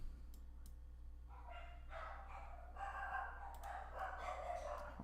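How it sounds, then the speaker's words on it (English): Several dogs bark excitedly in another part of the house, a run of ragged overlapping barks that builds and grows busier over a constant low electrical hum, with a few faint clicks early on. "The dogs are going crazy here."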